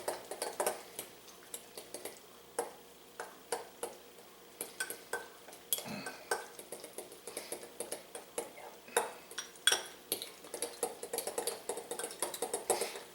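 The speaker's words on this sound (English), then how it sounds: "Just going to mix this up real good." A spoon stirs chopped fresh chives into a corned beef slider mixture in a bowl, making a steady, close run of scraping clinks and taps against the dish, with no talking.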